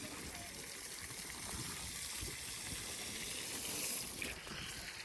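Water rinses off a graphene-coated Mustang during a wash, a faint, steady hiss of spray and running water with a little soft background noise throughout.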